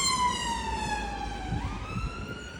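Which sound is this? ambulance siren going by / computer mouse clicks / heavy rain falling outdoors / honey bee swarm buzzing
ambulance siren going by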